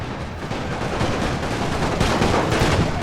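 Musket volleys in a Napoleon Total War battle with the Great War mod crackle continuously, dense overlapping gunfire rolling loud and steady like a massed fusillade with no voices.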